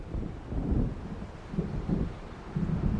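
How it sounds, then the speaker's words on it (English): Low rolling thunder from an approaching storm in Alan Wake Remastered, a steady deep rumble swelling in waves over wind and faint rain, with no talk. "It seems there's a storm coming."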